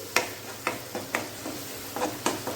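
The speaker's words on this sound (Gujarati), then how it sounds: "અને તેને પણ મિક્સ કરી લઈશું" A spoon stirs tomato puree and onions in a pan, making about seven close, rhythmic scraping strokes over a light sizzle, with no voices.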